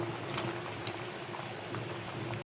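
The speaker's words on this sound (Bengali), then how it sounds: "আমাদের ঝোল ফুটে গেছে" Chicken curry gravy bubbles in a pot at a steady low simmer, a faint continuous burble with a soft hum beneath and no talking.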